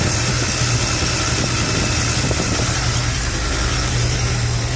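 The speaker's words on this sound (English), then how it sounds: "now that the car's been idling for about 15 minutes" A Chevy engine idles steadily after about fifteen minutes of running, while it shows a fuel pressure problem with air getting into the fuel lines. The loud, close, continuous drone has a low hum and a constant hiss.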